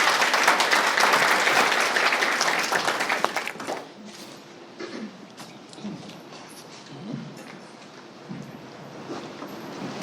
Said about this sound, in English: let's give a round of applause to our presenter and interpreter